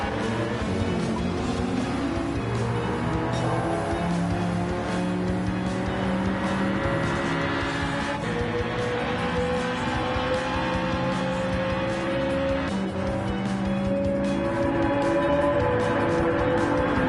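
Race cars in Gran Turismo 7 roar continuously and loudly as a crowded field of engines drones and whines together, with shifting engine pitches and occasional tire squeal, with no talking.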